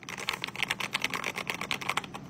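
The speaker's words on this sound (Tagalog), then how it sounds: "Wala nang magre-reklamong maingay yung keyboard ko." Fast, steady typing on a Lofree mechanical keyboard, a close run of crisp, even key clacks with a busy rhythm and no talking.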